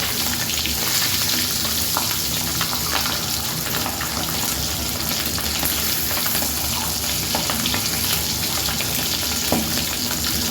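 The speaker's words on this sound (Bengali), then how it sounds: "মশলা মাখানো ডিমগুলো আমি ফ্রাই করছি।" Masala-coated eggs fry in hot oil, giving a dense, continuous close-up sizzle with scattered pops and spits throughout, steady in level and free of speech.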